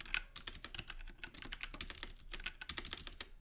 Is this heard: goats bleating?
no